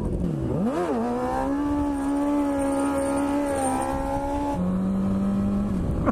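A motorcycle engine idles steadily nearby, briefly revving up and down before settling into a lower, droning idle.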